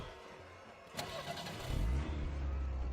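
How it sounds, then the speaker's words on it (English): Car engine starting in an Arknights story sound effect: a sharp click and crank, then the motor catches and settles into a deep, steady rumble as the car pulls away, with no voices. "The car starts moving and the parade crowd passes through behind."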